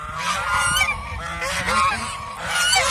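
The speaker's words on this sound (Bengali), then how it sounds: "এই যে আরেকটা ছেলে হাঁস আসতেছে" A male domestic goose honks near and loud among other geese, with repeated overlapping harsh calls running continuously without a pause.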